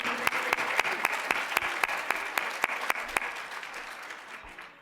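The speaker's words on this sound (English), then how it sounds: "Big round of applause to everybody for playing." An audience gives a round of applause at the close of a full program performance, steady dense clapping with sharp individual claps standing out, gradually thinning and tapering off toward the end.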